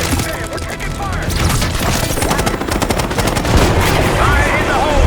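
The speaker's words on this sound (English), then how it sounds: "Damn, we're taking fire!" Sustained rapid gunfire from Call of Duty: Black Ops 6, loud and dense automatic bursts and shots continuing throughout, with voices shouting underneath.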